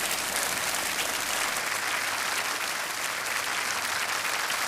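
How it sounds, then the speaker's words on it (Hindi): Studio audience applause on a Hindi TV quiz show, a continuous, dense roar of many hands clapping at steady loudness throughout, with no gaps. "तालियां बजती रहें तो अच्छा रहेगा"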